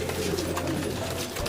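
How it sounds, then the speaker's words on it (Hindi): A high flyer pigeon coos low and close, a soft rolling burble that holds steady through the short moment with no other sounds. "क्या ज़बरदस्त कबूतर है दोस्तों।"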